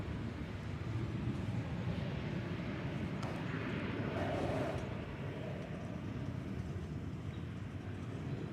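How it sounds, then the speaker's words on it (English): An Airbus A320 airliner on American Flight 3016, an airframe from 2000, heard at DFW Airport as a steady distant jet roar that swells slightly midway, with no talk over it. "It's an Airbus A320 going to Memphis, American Flight 3016."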